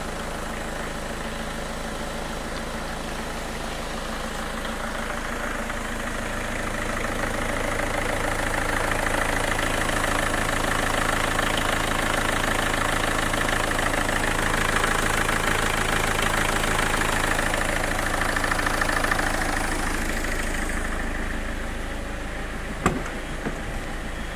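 Steady engine idle from a Peugeot 205 after starting, running for about twenty seconds with a slight swell in the middle, then a short click near the end.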